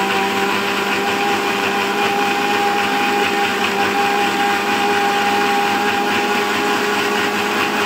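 Grinder mixer running steadily while mixing pigeon feed, a loud constant mechanical whine and hum with no breaks throughout.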